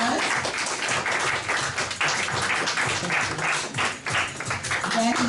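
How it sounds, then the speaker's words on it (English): Audience applause at a Detroit community show as a father is called up for a certificate, sustained clapping of moderate loudness with some voices mixed in and occasional sharper taps. "Y'all give my daddy a big old round of applause."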